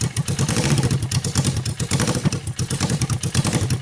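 A Suzuki engine with a touchy gas pedal runs rough, revving up and down in quick uneven bursts with a clattery mechanical edge, loud and close.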